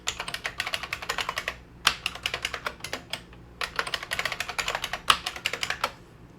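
A password is typed on a computer keyboard while setting up a file share: brisk, close clicking keystrokes in steady bursts, with a short pause near the middle, and no voices.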